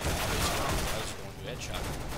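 Continuous loud gunfire from the shooter game CS:GO, rapid overlapping shots forming a dense barrage, with a player's voice talking over it.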